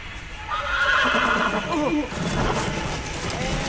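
A horse whinnies loudly with a rising and falling neigh, amid game sounds and faint talk, followed by light hoof clip-clops.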